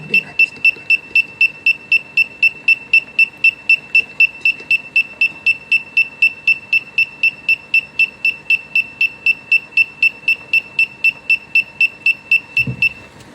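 An electronic buzzer on an ultrasonic obstacle detector beeps rapidly and steadily, a long run of evenly spaced high-pitched pulses that stops abruptly near the end.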